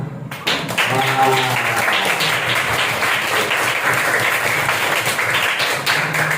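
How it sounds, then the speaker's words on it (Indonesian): Children at a health training session clap their hands together in a quick burst that starts abruptly and continues steadily, with a voice speaking briefly over the clapping near the start. "kalau misalnya kalian pengen semangat, kalian tepuk tangan"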